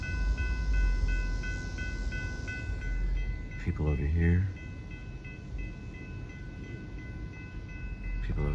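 A TEXRail commuter train passes, its rumble and rolling noise steady under a brief blast of horn, with someone speaking over it partway through.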